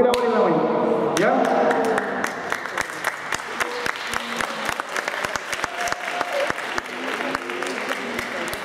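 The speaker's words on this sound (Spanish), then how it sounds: "se le da un gran aplauso a ellos" Dense, steady applause from a crowd at a school science fair award ceremony, rising over a voice at the start and continuing as thick, overlapping clapping throughout.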